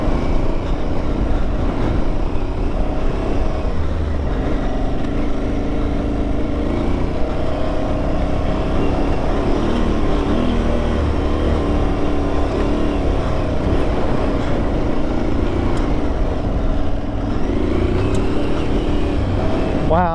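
An Aprilia Tuareg 660 motorcycle engine drones continuously at steady revs while riding, loud and close, with wind rush and road noise underneath.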